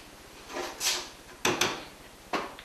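Cabinet doors in a workshop are swung open and shut, with a few soft wooden creaks and bumps followed by sharper knocks as they close, near and fairly quiet.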